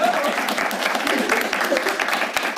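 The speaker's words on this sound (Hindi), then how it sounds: "आप लोग ताली बजा सकते हैं" Applause from a stand-up comedy audience, a dense burst of clapping hands filling the room, with a voice talking faintly underneath.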